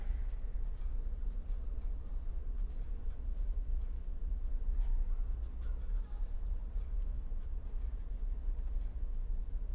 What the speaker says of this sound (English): I can write the equation of motion